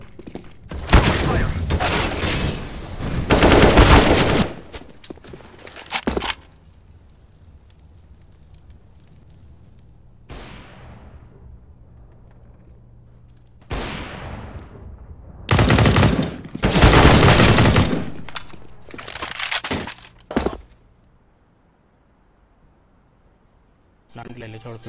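Counter-Strike: Global Offensive gunfire rattles in several sharp bursts of rapid automatic shots, loud and close, separated by quieter gaps with single shots and ringing tails.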